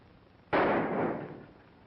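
A single sharp gunshot cracks out in a western-film shootout, bursting loud and then fading into a short echoing tail, with quiet before it.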